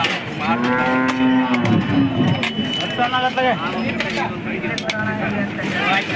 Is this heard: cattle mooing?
yes